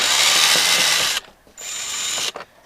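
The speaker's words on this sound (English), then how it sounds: "I'm going to go get my drill and we'll try it that way." A power drill removing screws from a 1997-2003 Audi A8 Quattro door during window replacement whirs loudly for about a second, stops, then runs again in a higher whine before cutting off, close by with no talking.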